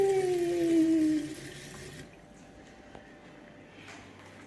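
Water running from a household tap in Jamaica with the pump switched off: a steady hiss of flow that weakens after a second or so and then trickles on faintly, with only a few scattered drips.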